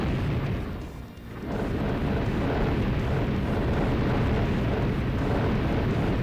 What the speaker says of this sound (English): its whole gimmick is that it breathes fire specifically at these pillars